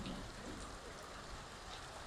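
Heavy rain pouring down steadily in Mushtaq Colony, Kasur, a dense, even hiss of falling water with no breaks, fairly faint and without voices.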